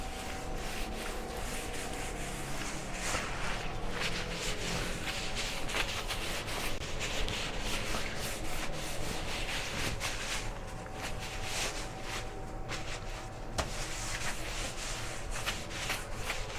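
Oil being rubbed by hand onto the sheet-metal surface of an offset barbecue smoker, a continuous scratchy rubbing and wiping texture with steady rhythm, close up and without talk.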